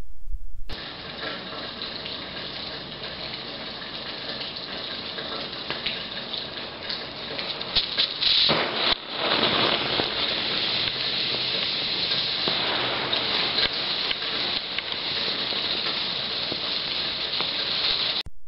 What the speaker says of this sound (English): Turpentine bursts into flames when poured into a mixture of potassium permanganate and red fuming nitric acid.